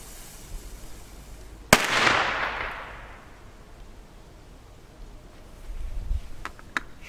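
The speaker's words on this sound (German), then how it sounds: "Wir haben jetzt hier die China-Böller." A single Chinese firecracker holding 4.5 grams of flash powder goes off outdoors in the snow on New Year, a sharp loud bang with a fading echo, followed by smaller distant pops.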